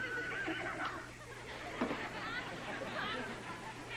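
A horse neighs faintly amid a background murmur of chatter, the whinny rising and falling once in the middle of the clip.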